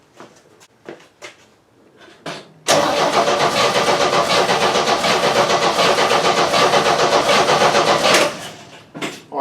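An old engine that has sat unrun for 30 years cranks over on the starter without catching, a loud, even churning for several seconds, bracketed by a few short clicks and clunks, with no spark to fire it.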